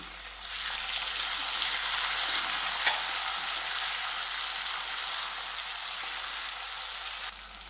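Steady, loud sizzling of tomatoes frying in a hot pan for keema, a continuous crackling hiss with a brief louder pop partway through.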